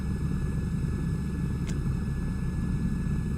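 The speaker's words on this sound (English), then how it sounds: "Sorry for the background noise. I'm in the plane." Steady low cabin drone of an aircraft engine in Microsoft Flight Simulator 2024 career mode, a constant rumbling hum with faint tonal whine above, unbroken and moderately quiet, with one brief faint click midway.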